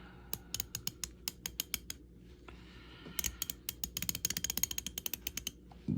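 Diehard ratchet clicking, a series of sharp close pawl ticks in uneven bursts, then a faster, denser run of clicks, with no talking.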